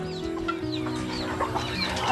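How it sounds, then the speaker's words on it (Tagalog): Chickens on a small backyard mini farm cluck and murmur continuously at close range, several birds overlapping in a busy, steady chatter with no talking. "Dami ng manok ko yan oh."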